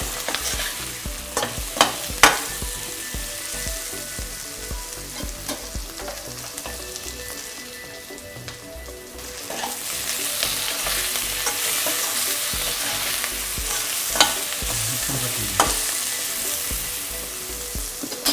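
Vegetables frying for beetroot vegetable pulao sizzle steadily in a pan, with repeated spoon scrapes and stirring clatter close by, growing louder midway, and no voices.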